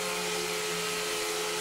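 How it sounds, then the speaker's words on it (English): A steady, loud mechanical whine of a power sander running continuously on wood edging of an assembly table, with constant high-pitched hum and no pauses. "Then it's time for some sanding"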